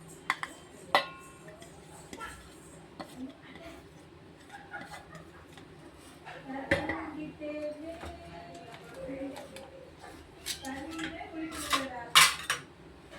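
Eggs stirred in a pan with salt for an egg sandwich, a utensil scraping and clinking against the pan in irregular bursts, louder toward the end.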